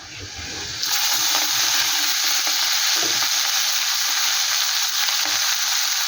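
Leafy greens for chechi shak bhaja with bori hit a hot pan and burst into a loud, continuous sizzle close by, with light stirring scrapes underneath.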